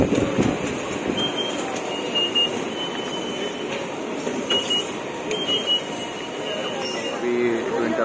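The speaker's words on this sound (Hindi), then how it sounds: "तो ये जो है वो ट्रेन आ गई है" A metro train pulls into a station in Kuala Lumpur with a steady rolling rumble, light metallic squeals and a hollow station echo, while voices talk over it.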